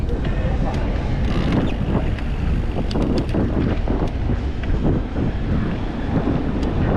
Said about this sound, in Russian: Да, ветер, конечно, чуть-чуть хорошо, когда ветерок есть.